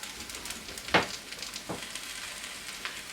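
Leek and vegetable batter fries in a pan with a steady soft sizzle throughout, plus a sharp clatter near one second and a couple of lighter taps later, with no talking.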